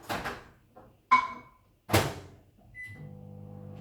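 Microwave door thumps and clicks, a beep, then the steady low hum of the microwave oven starting to run.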